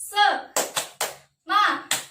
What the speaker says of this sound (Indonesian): Setelah itu kita bersama-sama tepuk semangat.